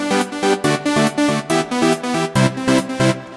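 Layered EDM synths playing a loop in FL Studio, loud rhythmic chords pulsing in short repeated stabs with a bright, full tone and a steady beat.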